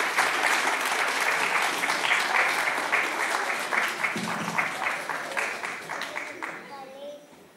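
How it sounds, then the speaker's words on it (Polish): A crowd applauds warmly at an event, dense clapping from many hands that fades out toward the end. "Jeszcze raz gorące brawa"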